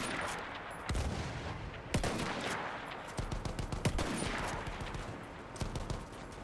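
Battlefield 1 gunfire: repeated sharp shots and short bursts crack across a steady battlefield din, some close and loud, others distant, in irregular clusters throughout.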